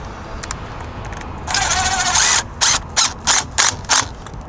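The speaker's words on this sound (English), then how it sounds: "hand tighten the nut and bolt" Track chain nut and bolt being hand-tightened, heard as a longer ratcheting rattle followed by five short, evenly spaced metallic clicks close by.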